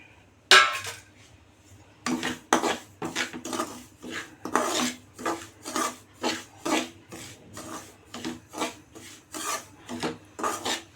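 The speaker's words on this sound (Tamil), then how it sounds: "அடுத்து ரவையை இதே மாதிரி வெறும் வடை சட்டியில் வறுத்துக்கலாம்" Dry semolina (rava) scrapes and rasps against an empty vada pan as it is stirred and roasted, a steady series of close, rhythmic scratching strokes repeating about twice a second.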